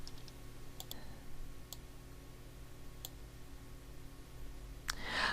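Sharp, isolated computer mouse clicks in quick singles and pairs, spaced through a quiet room tone while working in quilt design software, ending with a louder rustle.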